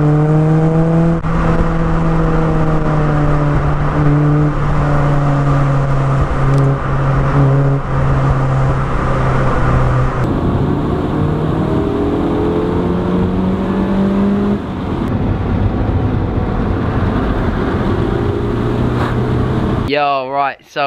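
Phoenix Yellow Honda Integra DC2 Type R engine heard from inside the car, revving hard and climbing through gears in repeated rising sweeps, loud and close with a brief gap between shifts.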